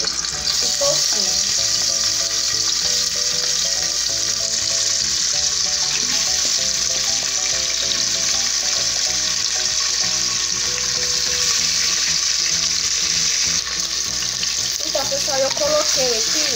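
Pork fatback pieces frying in hot oil for torresmo and lard give a loud, steady sizzle with dense bubbling and occasional sputters up close, while faint voices come and go underneath.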